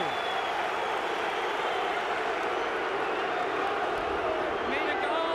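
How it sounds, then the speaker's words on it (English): A rugby stadium crowd at a 1997 Waratahs versus Chiefs match keeps up a loud, steady roar of cheering through the second half, with no clear break. "the crowd's having a ball here in the second half"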